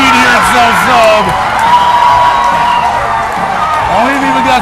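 A youth ice hockey crowd at a bantam AA game whoops and cheers loudly after a goal, with a continuous roar and an announcer speaking over it.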